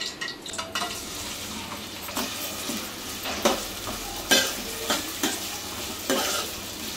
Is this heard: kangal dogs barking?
no